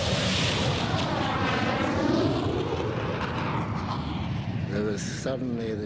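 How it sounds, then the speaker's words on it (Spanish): Argentine Air Force attack planes in the Falklands War roar overhead in a sustained, loud, swelling engine rush that sweeps past and fades, with a sharp burst near the end. "De repente oímos un rugido y miré hacia arriba y vi la parte de abajo de unos 5 aviones o incluso 6."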